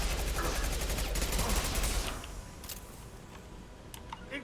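Rapid, dense automatic gunfire from the video game Mass Effect 2 rattles loudly for about two seconds, then drops to quieter scattered shots and clicks.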